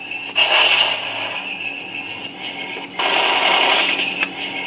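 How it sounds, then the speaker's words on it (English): A 1/72 scale RC tank plays its machine gun sound effect, a loud, tinny, high-pitched electronic rattle that runs steadily for several seconds with a brief break near the three-second mark. "Sounds a lot like the machine gun we heard on the first two, doesn't it?"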